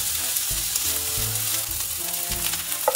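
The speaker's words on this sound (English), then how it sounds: "I will add the onions. I will saute until nice and golden." Onions sauté in olive oil in a pan, giving off a steady close sizzle and crackle, with soft knocks and scrapes of stirring now and then.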